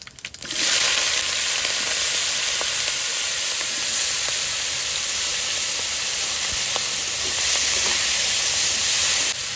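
Shrimp frying in a pan sends up a loud, dense, steady sizzle and hiss that starts abruptly and holds without a break, close up, with faint crackles throughout.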